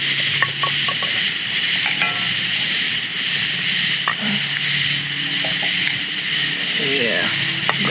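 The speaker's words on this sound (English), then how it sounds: "Ooh, sizzle, sizzle." Food sizzles over a campfire outdoors in a steady, close hiss, with scattered light clinks and knocks of cooking gear on top.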